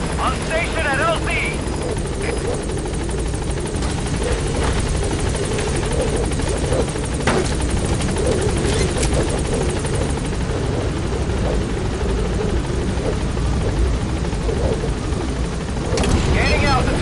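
A helicopter from the Metal Gear Solid 5 video game arrives at a landing zone, its rotor drone loud and continuous throughout, swelling slightly near the end, with a radio voice speaking over it.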